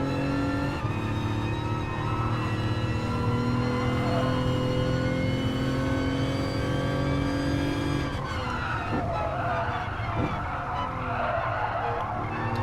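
A race car engine in Gran Turismo Sport revs high and steady, then drops pitch as the gear shifts up around two-thirds of the way through, with a screech of tyres alongside.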